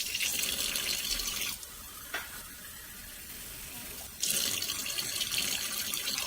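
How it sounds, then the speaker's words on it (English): Tap water pours into a glass jar in loud rushing bursts at the start and end, with a quieter stretch of trickling and a faint clink between, while seeds are being saved. "just so I can get more water in there."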